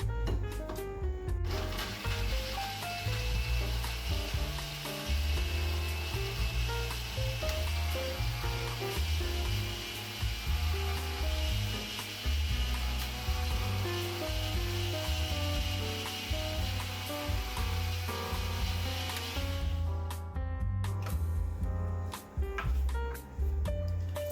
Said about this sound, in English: So I'll be blending my ginger.